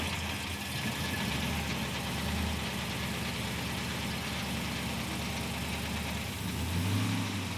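Chevy gasser engine idling steadily just after cranking, a continuous mid-pitched rumble with a slight rattling character and a small rev near the end.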